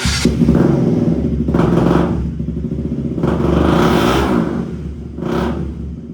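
A parked KTM motorcycle, unused for two or three months and low on fuel, revs close by in several surges over a steady idling rumble, each rise swelling loudly before falling back.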